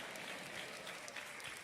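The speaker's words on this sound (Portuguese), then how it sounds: "Não aplauda não, senão vai parecer que eu canto." Steady applause from a church congregation during a sermon, a dense even patter of many hands clapping together, sustained throughout with no voices.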